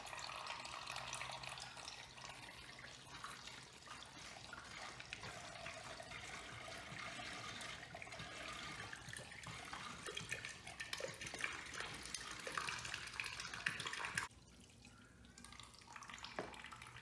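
Coolant drains from the crankcase drain bolt hole of a Kawasaki Vulcan 750 motorcycle, a faint, steady splashing trickle into a container that runs for about fourteen seconds before dropping away.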